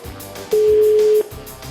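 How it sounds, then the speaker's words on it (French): One more telephone ring, a flat steady tone under a second long, rises clearly above quiet music playing underneath. "Deuxième sonnerie."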